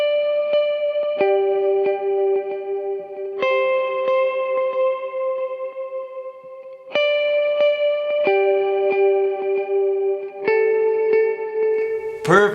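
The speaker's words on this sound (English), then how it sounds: "He's really going to take the highs with single notes. He's going to play the signature riff of the song." Electric guitar with effects playing a song's signature riff in single high notes, sustained tones changing every second or two with reverb and echo tails, loud and close, no talking.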